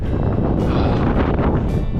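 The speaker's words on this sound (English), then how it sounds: "wind is picking up here" Strong wind roars and buffets the microphone in a loud, continuous rush, with gusts surging throughout and no voices.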